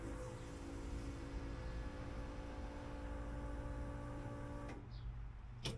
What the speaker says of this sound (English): I heard the fuel pump